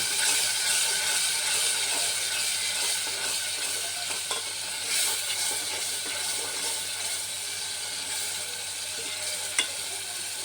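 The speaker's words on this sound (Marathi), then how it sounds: "हे मसाले मिक्स करून घ्यायचे." Spices being stirred into dal makhni in a pan, a soft continuous sizzle and scraping with occasional clicks, fairly quiet and without talk.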